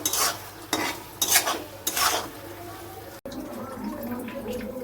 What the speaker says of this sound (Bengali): ম্যাঞ্চুরিয়ান দিয়ে দিয়েছি, নেড়ে চেড়ে একদম শুকনো শুকনো করে নামিয়ে নেব